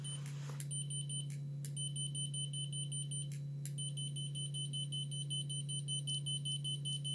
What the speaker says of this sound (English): if you press and hold measure, it constantly is beeping to let you know it's actually doing something